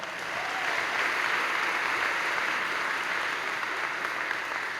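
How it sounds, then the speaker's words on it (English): Concert audience at a high school spring concert applauding honor choir students, a sustained even roar of clapping heard from within the hall, moderately loud and unbroken. "And let's give them a round of applause."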